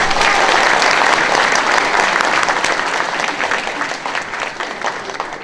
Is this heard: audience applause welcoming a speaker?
yes